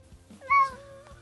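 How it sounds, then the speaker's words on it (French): A Bengal cat lets out a single clear, rising meow that stands out close by over a quiet room with a faint low hum. "si vous entendez des miaulements"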